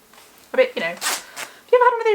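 A clothing zip on a coat is pulled in several short, quick rasping strokes, close and fairly clear, with a brief voiced sound between them.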